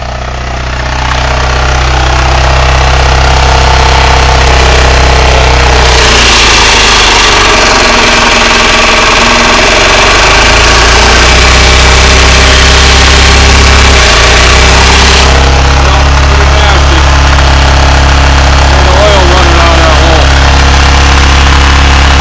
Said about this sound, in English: Here, we'll start her up for you. Let you see, we got no oil pressure. Motor's rattling.